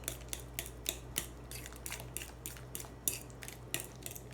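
Thawed frozen bananas being mashed with a utensil for vegan, gluten-free banana oatmeal cookies, giving a steady run of soft, wet clicks and scrapes against a bowl, fairly close and quiet, with no talking.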